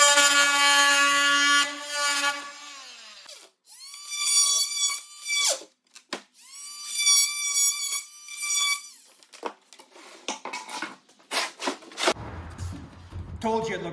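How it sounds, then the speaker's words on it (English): A Makita oscillating multi-tool cuts into a barnwood corner in several bursts, with high buzzing, squealing tones that start and stop with short pauses between, close and fairly loud. "I grabbed the Makita multi-tool and I just finished those off"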